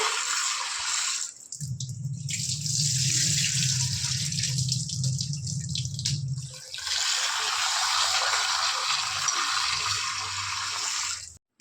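Raw rice being washed in water for Tamil adhirasam, with splashing and swishing of water, a low churning stretch in the middle, then more splashing.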